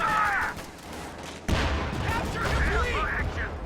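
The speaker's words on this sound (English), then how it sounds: "Jagdpanzer from Tr00per firing on that Sherman." A Jagdpanzer tank destroyer firing on a Sherman tank in the strategy game Company of Heroes 2: one sharp, heavy cannon report cuts in over low battle ambience, followed by rumbling echoes and scattered distant gunfire.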